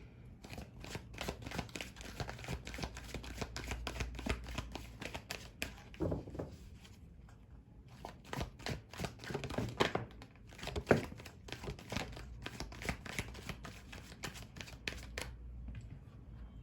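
Tarot cards shuffled by hand, a soft, steady riffling and flapping that goes on and on, close and fairly quiet, with a few brief pauses and no voices.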